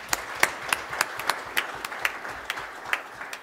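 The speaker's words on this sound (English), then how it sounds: "I'd like you to clap for the achievements of the Ungana project" A symposium audience claps to honour the Ungana project's achievements, a light, scattered applause of distinct individual claps at a moderate distance, lasting the whole stretch.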